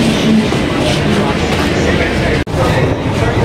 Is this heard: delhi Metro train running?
yes